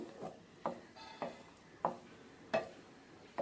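A spoon turning palak paneer curry with raw paneer cubes in a pan, producing six evenly spaced scraping knocks with a soft sizzle between them, close and fairly quiet.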